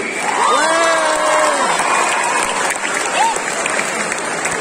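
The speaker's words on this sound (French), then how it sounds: "je vous demande d'applaudir bien fort le personnage de Kanao Tsuyuri" A crowd at a cosplay contest in Nantes applauds and cheers loudly and steadily. Whoops and a few higher shouts rise through the clapping, and voices call out in the mix.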